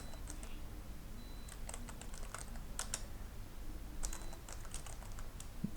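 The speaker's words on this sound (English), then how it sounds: "So let me type something." Rapid, uneven keystrokes on a computer keyboard while text is typed into PowerPoint, close and fairly quiet, arriving in short bursts with brief pauses and no talking.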